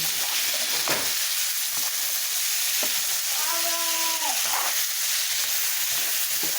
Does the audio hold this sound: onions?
yes